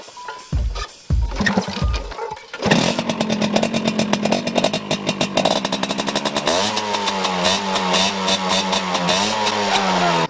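A car engine in a racing video game revs hard after a few sharp clicks, roaring loudly in rapid pulses and climbing in pitch, with no voices.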